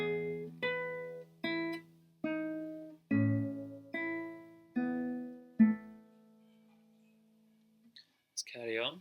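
Guitar plays a bar from the piece Birds Flew Over The Spire, eight clear plucked notes in a slow, even rhythm, the last one ringing out and fading before a short spoken word.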